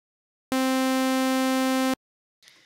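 Sylenth1 software synthesizer on its init preset, one bright buzzy sustained note held steady for about a second and a half, starting and ending abruptly, followed by a short faint noise.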